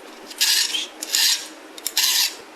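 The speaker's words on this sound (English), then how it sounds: "what you basically just want to do is take a chainsaw file, 3/16." A wooden divider for a bombe secretary desk is shaped with a 3/16 chainsaw file. Three close, loud rasping strokes follow one another at a steady pace, each followed by a brief pause, with no talking.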